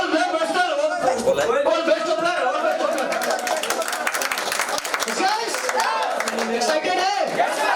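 An audience at an event claps and cheers to welcome a branch manager as he takes the stage, a dense, loud wash of applause mixed with crowd chatter and voices throughout.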